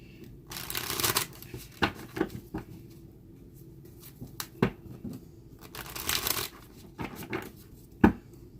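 Tarot cards shuffled by hand in bursts of riffling and slapping, with sharper snaps as cards fly out, close and fairly quiet with no talking.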